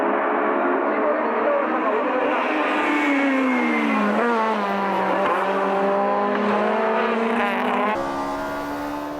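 Toyota AE86 race cars battle at Tsukuba circuit, their loud, high-revving engines overlapping and wailing continuously as the pitch sweeps down and climbs again through the gears, with faint tyre squeal mixed in.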